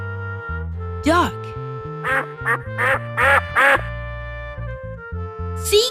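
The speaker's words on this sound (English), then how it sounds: "duck," A duck quacks repeatedly in a lively series of loud, nasal calls over a steady bed of backing music.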